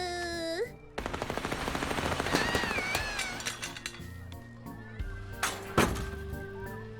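A video game's gunfire with real bullets: a fast, loud rattle of rapid shots for a couple of seconds, then scattered thuds and a sharp crack among game music and tones.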